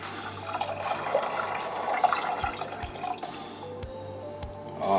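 Two cups of water poured into a pot for cooking quinoa, a steady splashing trickle with drips and light knocks, close and continuous in a kitchen.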